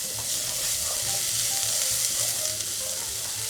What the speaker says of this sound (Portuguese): Agora é só mexer e esperar essa cebola dar uma boa murchada.